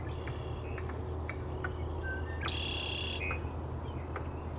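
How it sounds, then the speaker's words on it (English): A red-winged blackbird sings a few short, bright trills and whistles over a steady outdoor hum, faint and somewhat distant, with scattered chirps and no voices. "This little bird with striking red patches on the shoulder is a red-winged blackbird, singing to attract a mate and protecting his territory."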